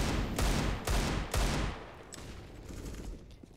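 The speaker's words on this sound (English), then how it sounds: "hearing these pistols early is good" Pistol shots in a Counter-Strike match on Mirage: three close, evenly spaced loud cracks about half a second apart, followed by a fading reverberant tail and faint distant rattles.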